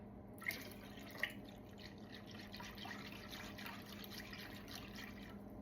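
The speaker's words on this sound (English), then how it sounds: "And remember our broth? We're gonna add a little bit," Broth is poured into a shrimp cocktail, a faint, steady liquid trickle with a couple of soft drips near the start, heard up close and quietly.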